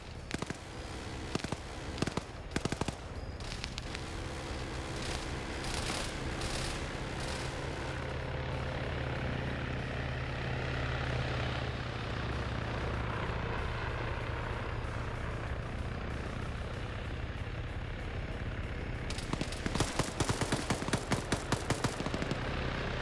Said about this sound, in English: got friendly fire by the helicopter